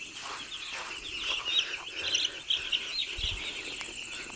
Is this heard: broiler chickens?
yes